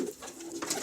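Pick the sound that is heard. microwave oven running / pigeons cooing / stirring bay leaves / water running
pigeons cooing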